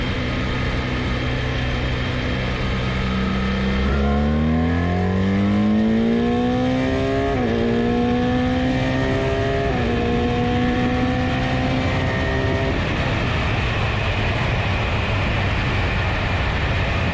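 A BMW R1300RS motorcycle accelerates hard from 100 to 200, its engine note climbing steadily through several quick upshifts with brief dips between gears, heard alone and up close over wind noise.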